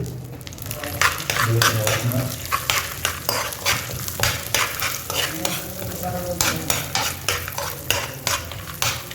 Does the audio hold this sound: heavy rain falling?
no